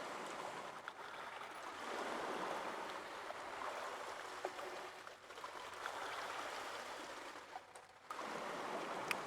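Movement through water in the Call of Cthulhu video game: steady sloshing and rushing water, moderately quiet and continuous, with a brief dip near the end before it swells again.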